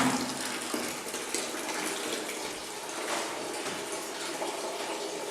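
Homemade red wine is pumped into a container as a continuous, gushing liquid rush with a watery, splashing texture, fairly close and steady throughout, with no talking.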